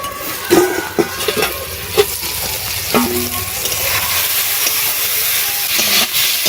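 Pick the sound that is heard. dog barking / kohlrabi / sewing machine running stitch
kohlrabi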